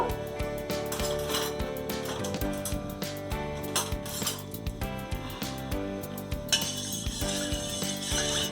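Milk being stirred in a pot for badam kulfi, with repeated metal clinks and scrapes of a spoon against the pot, steady and close, with no speech.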